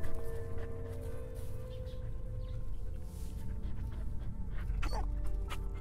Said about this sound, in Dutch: Honden die happen lucht.